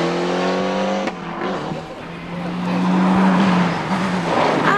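Rally car engine running on a gravel stage at the 2001 Lark in the Park Rally, a steady loud drone with a rising rev and some tire noise, close by throughout with no speech.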